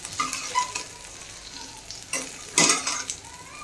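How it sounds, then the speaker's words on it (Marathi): Sprouted moth bean masala sizzles in a hot pan as a spoon stirs it, with crackling frying and scraping strokes that rise in brief louder bursts, close up and without talk. "आता गोल्डन कलर होईपर्यंत फ्राय करून घ्यायचा"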